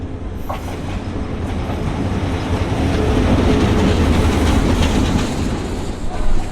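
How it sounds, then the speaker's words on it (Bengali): A train to Gaibandha, Bangladesh, rolls into a station with a steady, loud rumble and clatter of wheels on rails, growing slightly louder as it approaches, no clear talk over it. "আমাদের ট্রেনটা স্টেশনে প্রবেশ করছে"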